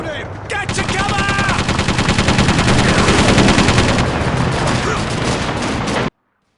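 Sustained strafing machine-gun fire from an aircraft in Call of Duty 2, a loud, dense rapid burst that rattles continuously for about six seconds before cutting off abruptly.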